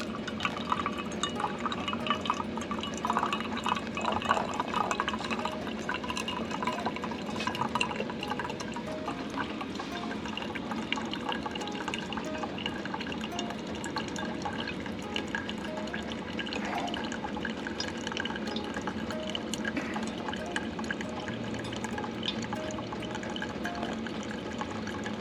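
Coffee poured during winter van camping, a soft continuous liquid trickle and drip under a steady ambient hiss, fairly faint and close, lasting throughout without talk.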